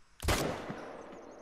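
A single sharp rifle shot from a .223 in the hunting game The Hunter: Call of the Wild, loud and sudden, followed by a short decaying echo in an otherwise quiet scene.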